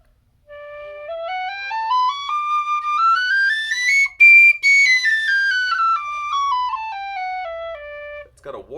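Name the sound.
regular whistle being played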